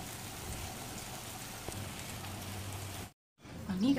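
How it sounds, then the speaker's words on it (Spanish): Rain falling outside a window on a cloudy day, a steady even hiss of drops heard from indoors, with a brief cut near the end. "Le voy a enseñar por la ventana la lluvia para que vean que está"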